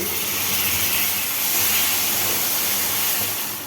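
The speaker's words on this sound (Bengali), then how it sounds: "এবার আমি দিয়ে দেবো এখানে আদা রসুনের পেস্ট" Ginger-garlic paste hits browned onions frying in a pan for a Bengali chicken liver and gizzard curry, giving a loud, steady sizzling hiss that swells slightly midway and holds throughout, with no talking.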